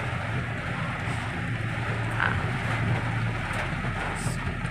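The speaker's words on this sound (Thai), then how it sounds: "ฝนตกนะครับ วิ่งไม่ได้แล้ว" Steady rain falls in a continuous hiss with a low rumble underneath, even and unbroken throughout, with no speech.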